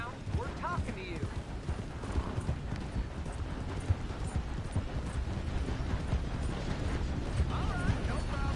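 Horse hooves clip-clop at a steady, close pace in Red Dead Redemption 2, joined by creaking tack and mechanical clicks, while people talk over the hoofbeats.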